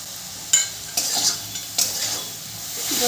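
Vegetables stir-fried with spices and Kashmiri chilli powder in a pan for navratan korma, the spatula scraping in several sharp strokes over a bright, steady sizzle.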